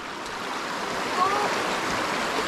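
A river flows in a steady, broad wash of water noise that fills the whole span evenly, close and fairly loud, with no clear voices over it.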